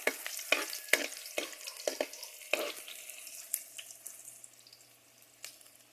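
Garlic and onion frying in a pan while being stirred, a spoon scraping and knocking in quick bursts over a close sizzle that settles into a quieter, steady fry.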